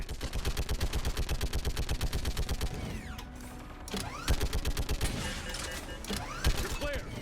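A shuttle-mounted turret in Mass Effect 3 fires a steady rapid burst of mechanical shots that breaks off, then resumes in sparser bursts over whirring game ambience, with a voice talking over it.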